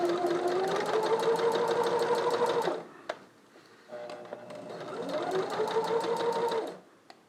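Sewing machine stitching fabric for a Spider-Man mask, close and steady: a long rapid mechanical chatter, a brief pause with a click, then a second run speeding up and stopping.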